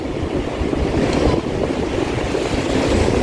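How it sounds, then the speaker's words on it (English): Strong surf at Woodbine Beach rolls in continuously, with waves crashing and gusty wind buffeting the microphone, loud and close with no talking. "And the waves are pretty strong."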